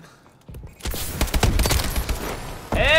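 In the Call of Duty video game, a dense run of gunfire cracks and pops in quick succession, loud and close. A sharp ringing effect rises at the end.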